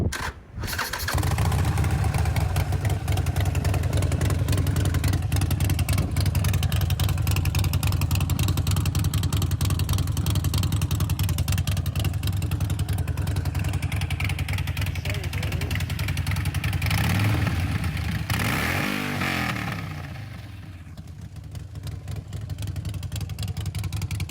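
A motorcycle engine runs steadily and loud, close by, with a strong low rumble for about twenty seconds before revving briefly and easing off toward the end; no speech is heard.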